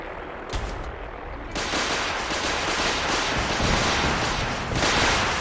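Gauss rifle shots in Fallout 4, a sharp report giving way to a loud, sustained roar of gunfire and booming blasts that keeps going to the end, with no voices.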